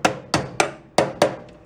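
Five sharp metal hammer taps knocking down high spots on an old junk snowblower being repaired, struck at a steady, unhurried rhythm, each ringing briefly, close and clear with no talking.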